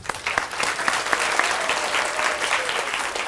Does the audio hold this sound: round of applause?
yes